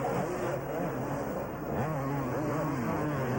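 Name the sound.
Kawasaki racing motorcycles during a motocross race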